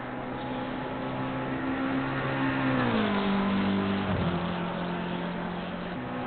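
A McLaren GT3 race car in the sim racing game Assetto Corsa Competizione howls down the main straight, a steady, loud engine drone whose pitch climbs, dips at a shift, then holds high.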